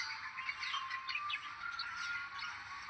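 Birds chirp at a temple during Navratri, a busy cluster of high, bright tweets overlapping near and far with no talking.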